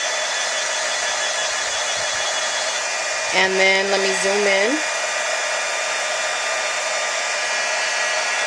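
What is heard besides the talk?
heat gun blowing hot air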